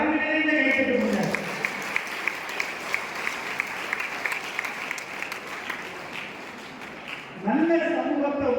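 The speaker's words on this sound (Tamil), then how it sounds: "6 பேருக்கு சேர்த்து ஒரு அழகு நிறைந்த கைத்தட்டல்." A hall audience at a college Tamil debate event applauds the six speakers: dense, sustained clapping runs for several seconds, preceded and followed by a voice talking over a hall microphone.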